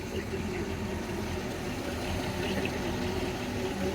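The engine of a 1987 Malibu Sunsetter ski boat idles with a steady, low rumbling lope, close and continuous with water noise around it.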